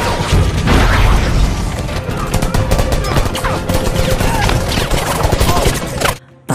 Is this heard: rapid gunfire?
yes